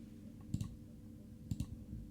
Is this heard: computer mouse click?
yes